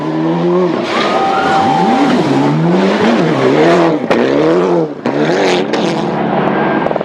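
A Mitsubishi rally car at the 1995 WRC Wales Rally GB tears over jumps, engine revving hard and rising and falling in pitch, with brief drops as it lands, loud and close.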